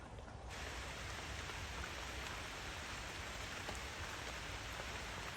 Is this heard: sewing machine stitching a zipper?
no